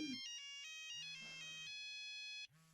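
Cell phone ringtone going off during a live stage play, a bright, melodic electronic tune of stepped notes that plays on without a break, near and clear, with no voices over it.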